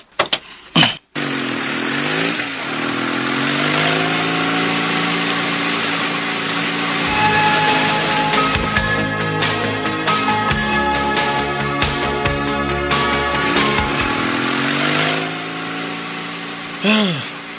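A motorcycle engine runs steadily while being ridden, a continuous buzzing hum with shifting pitch that holds for most of the stretch, opened and closed by a few sharp knocks.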